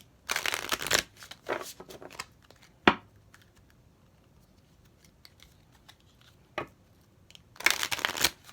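A deck of tarot cards is riffle-shuffled in quick, crisp bursts, with soft handling taps and pauses between shuffles, close and clear.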